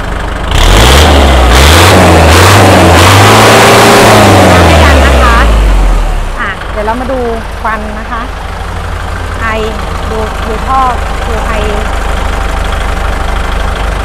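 Engine of a used L5018 farm tractor, loud and close, rising and falling in revs for several seconds, then settling into a steadier lower idle while someone talks over it.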